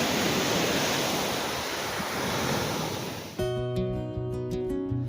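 Ocean waves wash against a beach on the Camino del Norte coast, a loud, steady broadband roar of surf and wind that cuts abruptly to a quieter, tonal background partway through.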